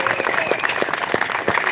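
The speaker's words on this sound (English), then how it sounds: "Could we just give just a warm welcome of applause to those guys who gave their lives and fortunes sacred honor?" Rally crowd at the California Capitol applauding, a dense steady wash of clapping that holds for under two seconds at close, moderate loudness.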